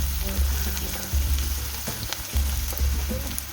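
Onion frying in a pan with a pinch of salt added gives a steady close sizzle with bursts of crackle and stirring scrapes.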